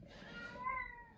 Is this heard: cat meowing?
yes